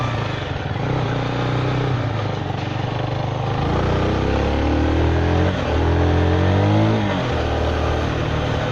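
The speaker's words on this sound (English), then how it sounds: "Acceleration's pretty normal, pretty average for a class 2A." A Zontes V310 motorcycle accelerates hard, its engine rising through the revs in a continuous loud drone with audible pitch sweeps as it climbs through the gears, close by with no talking.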